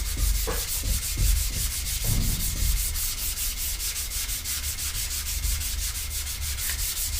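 Primer on a skateboard gets sanded by hand in fast, rhythmic back-and-forth strokes, a dense raspy scrubbing heard up close and alone.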